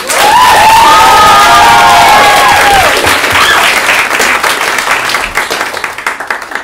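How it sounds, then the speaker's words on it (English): Loud audience applause and cheering after a school arts performance, with excited whoops and children's shouts over thick clapping that slowly thins out toward the end. "Can we get another round of applause?"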